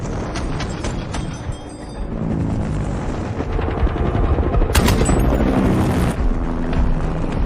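Dense film action scene of machine gun fire aimed at a car and a helicopter, with a steady roar of rotor and engine noise under sharp bursts of shots and occasional louder booms.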